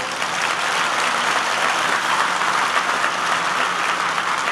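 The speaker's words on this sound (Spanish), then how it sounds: "Dele un aplauso al Rey bendito." A church congregation applauds together in a dense, steady wash of clapping that holds loud and even from start to finish, with no voices breaking through.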